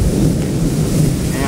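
Heavy rain pours with rumbling thunder at a fish pond during a fishing outing, a dense, steady roar filling the whole moment without a break.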